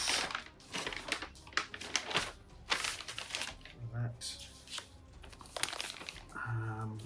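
Plastic packaging from a Lego set crinkles and tears in bursts of close rustling, interrupted by brief pauses and a couple of low, muffled thumps, with someone talking in between.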